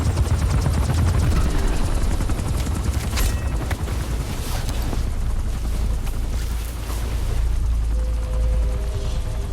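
A helicopter in the Metal Gear Solid 5 video game roars steadily with a deep rotor thrum, loud and close, with bursts of gunfire and booms mixed in over the continuous engine noise.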